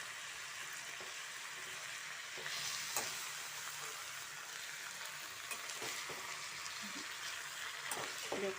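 Leafy greens frying and being stirred in a pan with carrot, turmeric and salt, a steady close sizzle broken by scraping stirs, with no talk.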